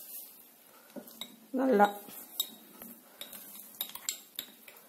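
Custard powder stirred into milk with a spoon in a metal vessel, giving a few scraping clinks and one louder ringing clatter, with someone briefly speaking.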